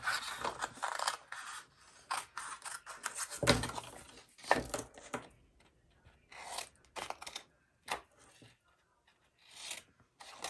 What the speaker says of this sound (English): I'm just going to cut around the bits that I need that I'm going to die cut out